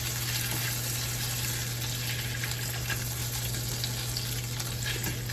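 Stuffed chicken breasts frying in a frying pan, a loud steady hiss and crackle of hot oil sustained without pause, with a low electrical hum underneath and no voices.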